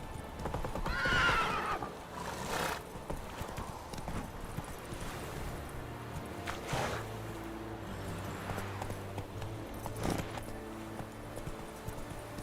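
A horse in Witcher 3 clops along at a rhythmic gait with a whinny near the start, hoofbeats close and fairly quiet over a soft ambient bed.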